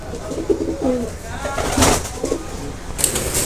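Imported-bloodline fancy pigeons (Teddy, Chuha Tiger type) coo in a loft with repeated low, throaty calls at close range, and faint background murmuring and rustling.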